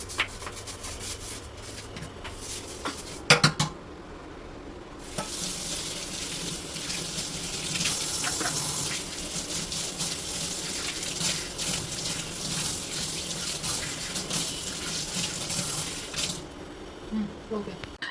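Water gushes steadily from a tap into a sink, with clattering and scrubbing sounds and a brief knock before the flow grows louder.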